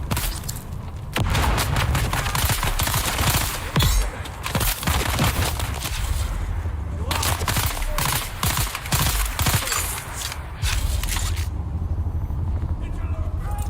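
Grenade blasts and heavy gunfire from the video game Dune Awakening, a dense, loud run of booming explosions and bursts with brief gaps, while a voice talks over the action.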